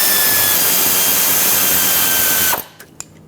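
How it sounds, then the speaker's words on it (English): Power tool driving a 14mm socket to tighten a bolt on a 1995-2004 Toyota Tacoma 2.4L L4 engine, a loud continuous whirring buzz that stops abruptly, followed by a few faint clicks. "Take that 14mm socket, just tighten up this bolt."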